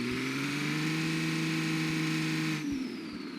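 A car in BeamNG pulling away with a steady engine drone and rising whine for most of the run, then the throttle drops off near the end as the engine note fades back, loud and close with no talk.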